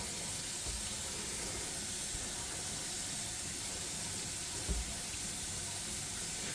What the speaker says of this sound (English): we're gonna fill it up, guys, to the top and flush it through